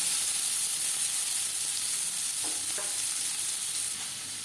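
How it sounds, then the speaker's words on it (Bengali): Chopped onions sizzling in the oil left over from frying fish for a Bengali fish curry, a steady, close hiss of frying with a few faint stirring knocks and a slight drop in level near the end. "মাছ ভেজে নেওয়া তেলে দিয়ে দেব পেঁয়াজ কুচি"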